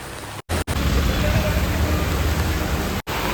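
Loud, dense downpour in Vadakkencherry, Kerala, during flooding, roars continuously, broken by a couple of abrupt short dropouts.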